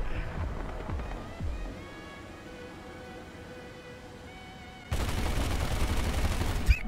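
Rapid bursts of video game gunfire rattle through a firefight on a Swedish map, loud and clustered at the start, quieter for a stretch, then dense continuous shooting near the end.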